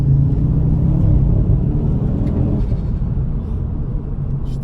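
Ford Focus RS MK2 engine giving a deep, steady rumble from close by that stays loud and unbroken throughout.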